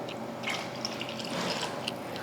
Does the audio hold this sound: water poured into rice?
yes